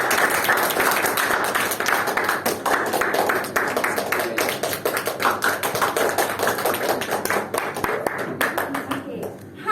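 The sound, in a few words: applause at online meeting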